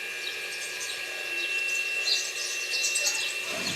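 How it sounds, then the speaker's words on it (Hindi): Birds chirping noisily around a home, a dense, continuous high twittering of many calls that stays steady throughout, with no talk over it. "बैकग्राउंड म्यूज़िक तो मेरे घर में इनका ही आता है, चिड़ियों का ही।"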